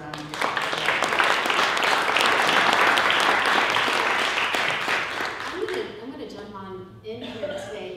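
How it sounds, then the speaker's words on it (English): Sustained audience applause for a university anniversary panel, loud and full for about six seconds before fading as a voice begins speaking. "another round of applause"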